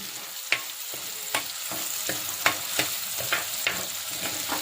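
Onion, ginger and tomato sautéing in a pan for a Kerala-style fish curry: a steady sizzle broken by regular sharp scrapes of a spoon stirring, close and moderately loud, with no voices.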